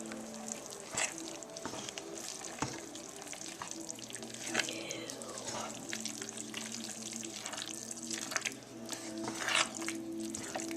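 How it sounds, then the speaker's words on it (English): Wet squishing and scraping of a spoon stirring meat into tamale sauce in a pot, quiet and continuous with a faint sizzle and bubbling in the background. "Okay, I'll stir the meat into the sauce."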